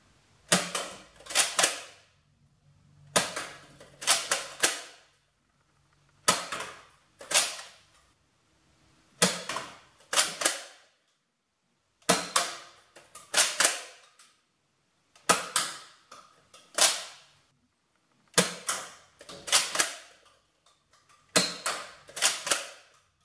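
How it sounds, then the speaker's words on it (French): Nerf Fortnite SP-L blaster shooting six foam darts at small targets outdoors, each shot a sharp, loud mechanical snap with a springy clatter as the blaster is primed, spaced at steady intervals of a few seconds with no talking. "Je vais tirer 6 fléchettes."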